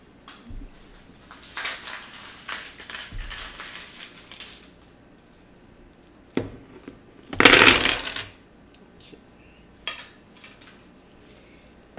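Cards are shuffled for a reading. Short papery riffles and slaps come in scattered bursts, with one louder, longer riffle near the middle and quiet gaps between.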